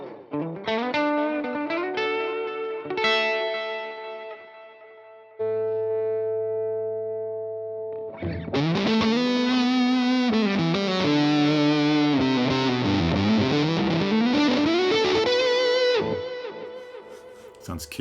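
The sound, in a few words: electric guitar through Guitar Rig 6 fuzz and tape echo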